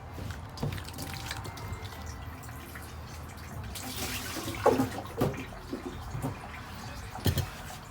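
Green figs being rinsed in water for Trinidad-style talkari, with soft splashing and sloshing, a few sharper drips and clatters, fairly quiet and close.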